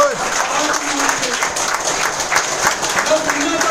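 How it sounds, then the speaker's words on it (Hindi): An audience at a hotel business meeting claps together in a dense, steady burst of applause, with a voice faintly audible underneath. "कुछ तालियां बजाओ।"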